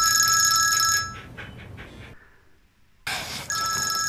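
A telephone rings with a bright electronic trill in two bursts, broken by a short near-silent pause while a call is being placed; no one speaks.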